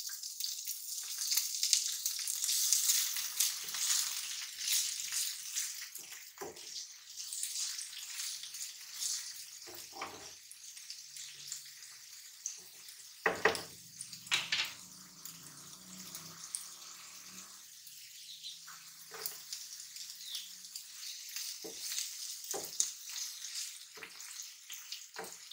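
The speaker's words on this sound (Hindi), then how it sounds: "प्याज को बस 2 से 3 मिनट फ्राई कर लें।" Onions frying in a pan for a half moon evening snack: a steady, close sizzling hiss runs throughout, broken by scattered clicks and light knocks of stirring, with no talking.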